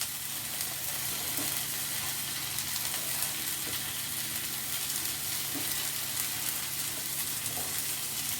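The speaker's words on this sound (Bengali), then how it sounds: "এরপর আমি দিয়ে দিচ্ছি ক্যাপসিকাম কুচি" Chopped capsicum frying with onions in a pan, a continuous dense sizzle and hiss with occasional soft stirring scrapes, close and steady throughout.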